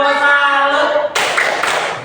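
Brief burst of classroom clapping as pupils salute a group in class, coming in sharply after a sustained voice and continuing for about a second at close range.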